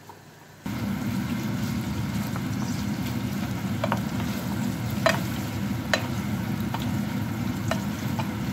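Minced meat poured onto chopped onions frying in a pan for a potato and yufka börek sizzles steadily, with a few scraping clicks of stirring after a quiet start.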